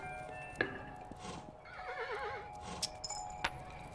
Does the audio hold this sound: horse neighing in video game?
yes